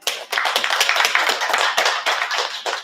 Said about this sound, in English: Can we clap for the homie?